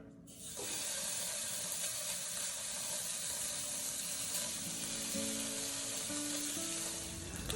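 Chorizo frying in a pan, a dense steady sizzle that starts after a short quiet opening and holds loud and close, with faint tonal clinks near the end; no one speaks.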